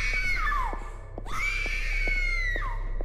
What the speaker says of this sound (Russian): Жена орёт громко, а?